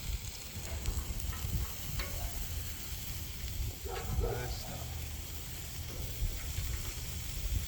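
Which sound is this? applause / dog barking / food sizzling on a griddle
food sizzling on a griddle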